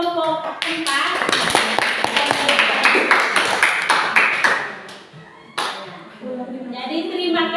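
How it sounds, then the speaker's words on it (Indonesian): A classroom of students applauds a presenting group, with sustained rhythmic clapping and children's voices mixed in, fading briefly before a final burst of claps and then talk resuming. "beri tepuk tangan untuk kelompok 4"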